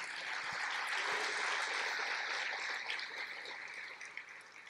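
A church congregation applauds during a sermon, with dense sustained clapping that sounds like a steady wash and tapers off slightly toward the end, with no voices over it.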